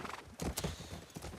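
Horse hooves clip-clop in a video game, a few uneven hoof strikes at close range with faint background noise and no speech.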